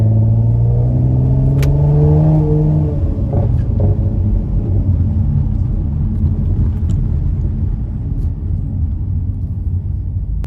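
A 7th gen Nissan Maxima with a muffler delete accelerates up to speed, its loud, raw exhaust rising in pitch through the first few seconds before settling into a steady, rumbling cruise heard from inside the car.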